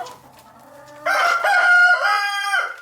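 A rooster crows loudly and close by in a backyard flock of chickens, a single drawn-out cock-a-doodle-doo following a few softer clucks.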